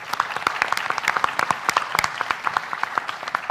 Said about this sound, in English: So a round of applause, please, for all our panelists.